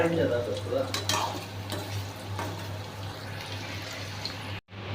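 Paneer fries in oil in a pan with a continuous low sizzle, while a spoon scrapes and clinks as the pieces are stirred over a steady background hum.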